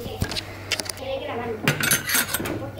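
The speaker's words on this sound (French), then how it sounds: "ils doivent débarrasser leurs assiettes et les mettre ici. Et leurs couverts aussi." Plates and cutlery clatter and clink as children clear their dishes after eating at a Montessori school in Spain, with irregular close knocks and chimes and voices in the background.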